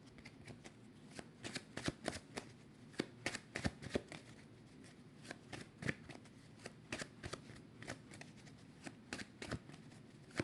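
Oracle cards are shuffled for a nine-card tarot spread: a run of soft, quick riffles and slaps, close and quiet, repeating in uneven bursts without talk.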